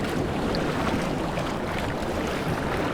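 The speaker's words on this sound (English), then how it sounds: "These bouncing waves off the shore." Choppy Lake Superior waves rebounding off a rocky shore, a dense, constant wash of splashing water heard close from a kayak, mixed with steady wind noise and no voices.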